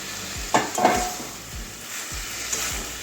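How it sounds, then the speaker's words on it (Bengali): Fried potato, pointed gourd and carrot go into a pan of sizzling soybean curry. A constant close sizzle runs underneath a few soft thumps and scraping stirs, with a louder clatter near the start. "এবারে ভেজে রাখা আলু পটল গাজর দিয়ে দিচ্ছি"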